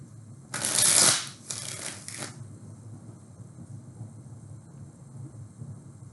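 Tarot cards shuffled in two quick bursts during a pick-a-card reading: a loud riffling flutter, then a second shorter shuffle, followed by quiet room tone.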